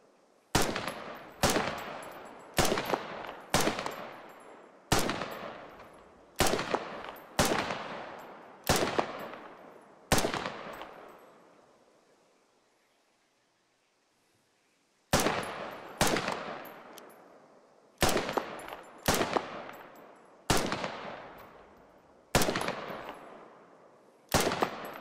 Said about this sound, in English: Automatic riflemen and machine gunners carry a machine gun like this to the field.